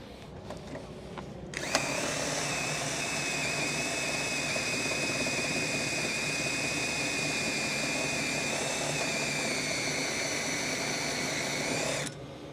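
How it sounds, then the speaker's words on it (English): A chamfer drill bevels the cut end of a drainage pipe, running as a loud, steady high whine for about ten seconds after a brief start, then stopping abruptly. "So all I'd have to do now is chamfer that using the chamfer drill."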